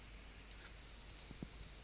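A computer mouse clicking a few times, sharp tiny clicks spaced unevenly over a quiet background, close and faint, no talk.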